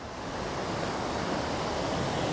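Upper falls at Invermoriston in the Scottish Highlands, heard as a steady, broadband roar of rushing water with no other sounds on top.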